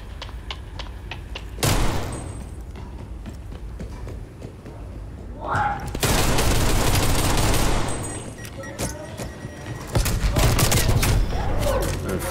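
Dense gunfire bursts in a Call of Duty Gunfight match as a decoy grenade goes off, with rapid rattling volleys rising and falling over several seconds, loud and close, under an esports commentator's voice.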